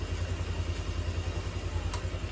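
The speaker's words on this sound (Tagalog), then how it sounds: "buhay yung makina" A Honda Click 125 scooter engine idles steadily close by, a low, even mechanical putter with faint clatter and no talking.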